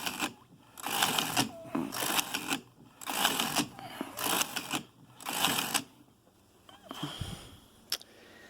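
A Singer Heimstricker knitting machine works half fisherman's rib, its carriage sweeping back and forth in about six loud, rhythmic swishing, clattering passes with short pauses between them, close by and with no talking.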